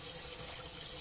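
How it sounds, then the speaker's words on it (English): Tap water runs steadily into a bowl as it fills for cooking tamales, a continuous close hiss and gush with no talking. "filling up my bowl over here. And I'm going to add, this is 1 bowl of water"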